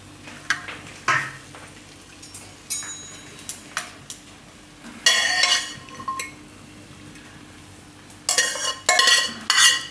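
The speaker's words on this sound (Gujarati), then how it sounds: "આને આપણે કાઢી લેવું આ રીતનું કોઈ પણ જારીવાળું વાસણ લઈને એમાં" A slotted metal spoon scoops boiled green pigeon peas out of a pressure cooker, making scattered scraping clinks and louder metallic rattles in bursts, close and without speech.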